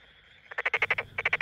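Male Tokyo Daruma pond frog calling near rice paddies, a rapid pulsed croaking trill in two bursts, the first about eight pulses then a short gap and four more, close and clear against a quiet background.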